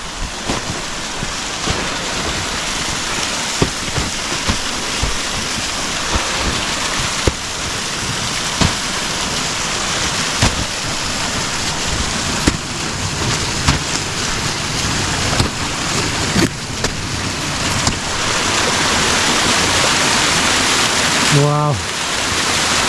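Mountain river in snowy winter hills, a continuous rushing water wash with scattered clicks and knocks, wind noise and a person's voice faintly in the background.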